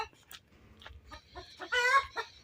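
A hen that has just laid an egg clucks in a series of short, sharp calls that build into a louder, rising cackle, close by and with no talk over it.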